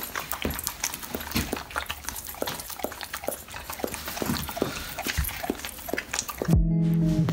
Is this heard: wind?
no